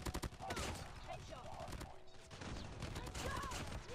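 Rapid gunfire from an AGR assault rifle in Call of Duty Mobile, dense repeated shot bursts running almost continuously at moderate loudness, with a voice talking underneath.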